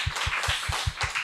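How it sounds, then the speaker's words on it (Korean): A church congregation claps in rhythmic unison, steady evenly spaced claps repeating about five times a second, close and moderately loud. "우리 하나님께 영광의 박수 올려드리겠습니다."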